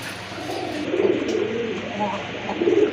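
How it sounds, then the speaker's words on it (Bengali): Rajgolla pigeons coo in repeated low, rolling phrases, fairly close and moderately loud, with a voice talking over them at times in a market setting. "আরেক জোড়া রাজগোল্লা কবুতর এখানে"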